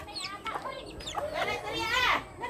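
Small one-legged bantam hen clucking in short, close, nasal bursts, with a voice and other chatter mixed in around the calls.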